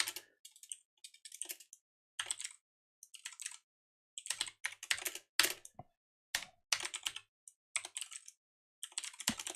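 Bursts of computer keyboard typing in irregular clusters with short pauses between them, close and fairly quiet, during a Godot 4 VR prototyping session.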